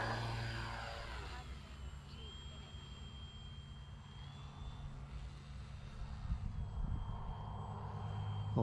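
An RC model EC 1500 twin airplane with landing flaps down flies a low touch-and-go pass, its engines a steady, moderately distant drone throughout with a slight rise toward the end.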